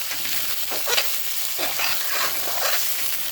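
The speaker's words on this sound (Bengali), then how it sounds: "ঘি দিয়েই সবজিটা আমি ভেজে নিচ্ছি আগে" Vegetables fry in ghee in a home kitchen, hissing and sizzling steadily, while periodic scraping stirs break through the close, continuous crackle.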